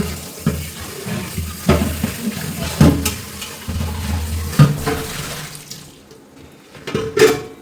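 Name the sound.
washing rice gruel pots under running water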